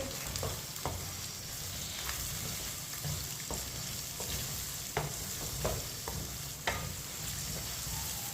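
Finely chopped onion frying with lightly browned chicken in a pan, stirred with a spoon; a steady sizzle runs throughout, broken by repeated scraping clicks of the spoon, with no voices.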